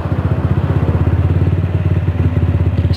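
A neighbor's motorcycle revs behind the house, its loud, steady engine pulsing in a rapid, even rhythm throughout.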